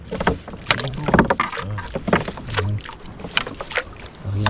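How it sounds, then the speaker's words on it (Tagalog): A small bangka fishing boat runs on open water near Panalitan Island, with steady splashing and wind buffeting close to the microphone while someone talks intermittently over it. "Ayan yung bangka mga idol."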